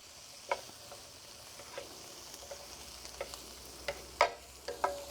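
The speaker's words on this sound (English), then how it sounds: "So I think our onions have cooked down enough." Onions cook down in a pan with a soft, steady sizzle, broken by a few sharp clinks and scrapes of stirring, close by and fairly quiet with no talking.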